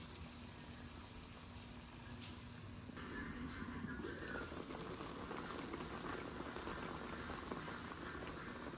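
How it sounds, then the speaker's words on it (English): Chicken kaldereta simmers in a pot with a steady, soft bubbling and sizzling hiss that grows slightly busier partway through, close up and quiet, with no talking. "Simmer lang, guys."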